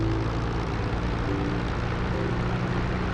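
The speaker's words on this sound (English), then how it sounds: "for the 51 it's 1800 RPMs for a magneto check" P-51 Mustang piston aircraft engine held at 1800 RPM during a run-up and magneto check, a loud, steady, dense propeller drone with no pauses.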